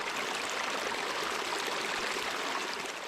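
Hot spring water rushing from its source at Talavana Hot Springs, a steady, full, close-up gurgling flow with no breaks and no voices.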